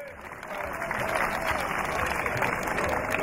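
A concert audience at Dalbok Izvor 2013 claps in an even, continuous wash of applause, moderately loud and unbroken for a few seconds.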